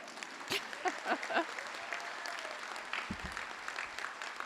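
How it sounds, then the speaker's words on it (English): A graduation audience at a health sciences school ceremony applauds, a soft, distant wash of clapping with a few sharper nearby claps, fairly faint throughout and with no talk over it. "Maybe we can applaud for that."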